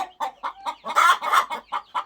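Laying hens on a small farm cluck close by in quick, uneven bursts, a run of short throaty calls with a louder, harsher pair in the middle.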